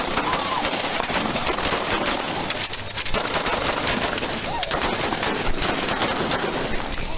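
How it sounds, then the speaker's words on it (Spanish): Gunshots fired during a police motorcycle chase: rapid cracks in quick bursts, loud and close, buried in dense, continuous noise and commotion throughout. "Shots fired! Shots fired! Shots fired!"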